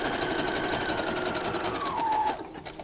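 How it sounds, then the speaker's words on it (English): A sewing machine zigzag-stitches a ruffle onto pants, its motor whirring loud and close for about two seconds before the pitch drops and it winds down. "I'm going to zigzag 1 on, 1 off."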